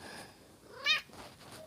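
A kitten gives one short, rising meow close by, brief and moderately loud over a quiet room background.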